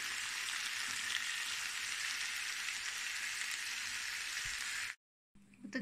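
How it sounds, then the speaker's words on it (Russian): Potatoes and mixed wild mushrooms fry in a pan with a steady, dense sizzle throughout. The sound cuts out abruptly near the end, then resumes briefly. "Все обжариваем до готовности."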